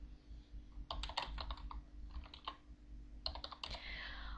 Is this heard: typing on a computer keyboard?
yes